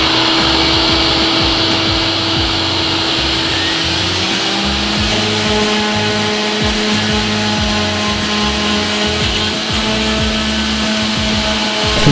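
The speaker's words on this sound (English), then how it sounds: "So I'm gonna start the vacuum." A shop vacuum runs continuously, loud and steady, pulling up sanding dust while widebody over-fenders are fitted to an Infiniti G35 coupe, with faint irregular clicks and scrapes beneath the drone.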